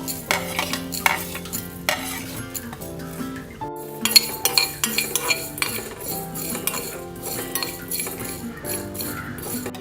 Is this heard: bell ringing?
no